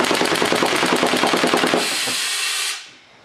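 Homemade full-auto air gun firing batteries in a rapid, loud rattling burst for about two seconds, followed by a sustained hiss of escaping air that cuts off abruptly.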